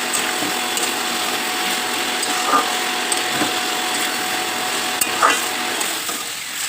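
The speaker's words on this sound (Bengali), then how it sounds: "এরপর আমি কাঁচা কাঁচা পেঁয়াজও দিয়ে দিলাম পেঁয়াজটাও কিন্তু পেস্ট আমি করিনি এরপর ভালো করে আমি ভেজে ভেজে নিচ্ছি" Raw chopped onions fry in a pan for a chicken curry, a loud continuous sizzle with occasional spatula scrapes and stirring knocks, close and steady, no voices.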